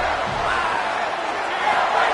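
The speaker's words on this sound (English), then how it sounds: "for an entire game, they are on their feet, yelling, screaming" Large LSU football stadium crowd roaring in a steady, dense wash of yelling and screaming, loud and continuous throughout with no clear breaks.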